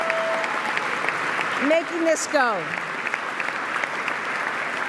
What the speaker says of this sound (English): as we applaud